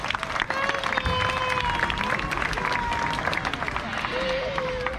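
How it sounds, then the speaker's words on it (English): An audience at a macaw bird show at a safari park applauds in a steady wash of clapping and crowd noise, with some bird calls and voices mixed in before it fades. "Let's give them a big round of applause."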